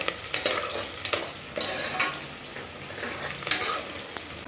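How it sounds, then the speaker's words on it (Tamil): Small onions and curry leaves sautéing in hot oil for Tirunelveli-style mutton thakkadi, a soft continuous sizzle broken by scraping stirs of a spoon in the pan, with no voices. "நான் நறுக்கி வச்சுருக்கிற சின்ன வெங்காயம் இந்த எண்ணெயில் சேர்த்துக்கிட்ட ஃப்ரெண்ட்ஸ்"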